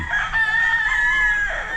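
A rooster crows in one long, strained call, close by and fairly loud, with faint clucking around it.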